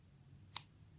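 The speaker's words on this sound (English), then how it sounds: "I'm going to snip my yarn" Scissors snip a strand of yarn while someone finishes a crocheted bath mat, making one short, crisp cut in a quiet room with no other sound around it.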